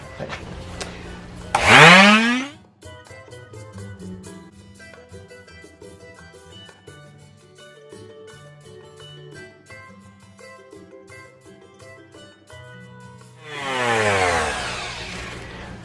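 A power sander sanding wood for a DIY TV stand whirs up and winds down in two short bursts, one near the start and one near the end, with quiet music playing between them.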